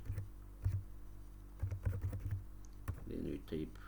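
Clattering keystrokes on a computer keyboard while entering column headings in a spreadsheet, arriving in short irregular bursts of quick taps with brief pauses, close and moderately loud.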